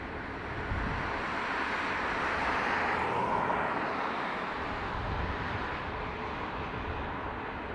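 Airliners landing on the north runway at Dublin Airport, heard as a broad, sustained jet roar that swells slightly and holds steady at a moderate distance.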